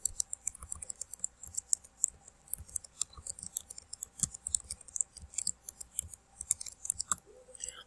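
Typing on a computer keyboard, a steady run of crisp close-up key clicks with uneven rhythm, fairly quiet and alone without talk.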